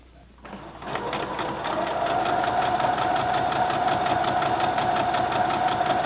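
A sewing machine stitches quilt pieces together, starting up and then running steadily at a fast, even rhythm, close and loud, with a mechanical whirr throughout.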